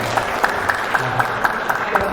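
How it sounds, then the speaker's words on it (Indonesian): An audience at a millennial talk event claps for a participant in a steady rhythmic beat, sharp evenly spaced claps over a murmuring room with a low background rumble. "Oke, tepuk tangan untuk Marcel"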